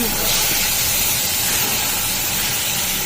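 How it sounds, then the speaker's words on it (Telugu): Eggs frying in hot oil in a home kitchen pan, a steady loud broadband sizzle and hiss that holds evenly throughout with no pauses. "దీంట్లో అయితే మంచిగా ఆయిల్ తిరిగింది కదా గుడ్లు వేసేసుకుందాం"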